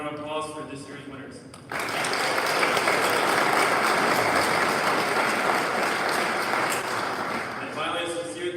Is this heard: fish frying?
no